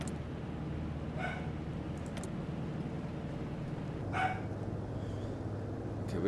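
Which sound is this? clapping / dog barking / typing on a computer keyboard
dog barking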